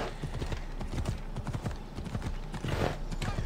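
Horse hooves clip-clopping in an Assassin's Creed game, a quick, even trotting rhythm up close, with a brief snort or whinny near the end.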